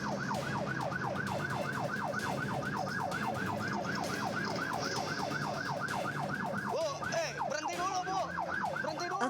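Ambulance siren wailing in a fast, regular yelp cycle during a chase with a minibus through a residential housing area, loud and continuous, breaking into overlapping, less regular siren tones near the end amid traffic noise.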